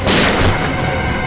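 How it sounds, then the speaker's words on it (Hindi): Gunshots fired inside a closed room during a TV crime drama scene, heard as a dense, loud, continuous burst of booming fire that fills the clip, with no voices over it. "इस कमरे से गोलियां चलने की आवाज आ रही है"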